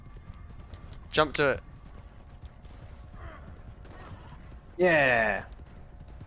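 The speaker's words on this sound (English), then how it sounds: "Shut the fuck up, horse." Horse in Red Dead Redemption 2 online play gives two loud whinnies, one short and one longer near the end, with faint hoof clip-clop and game ambience between, while a player talks briefly.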